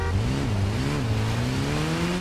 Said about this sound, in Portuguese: Bora, mete na moto.